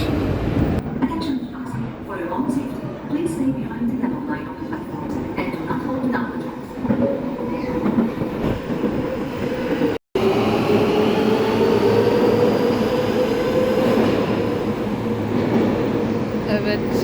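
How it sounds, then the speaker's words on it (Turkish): An Istanbul metro train pulls into Şişhane station, its rumble and rolling wheels filling the platform. A rising whine builds in the second half, and a voice talks over the first part. "Metrodan indim. Şu an Şişhane durağına geldim."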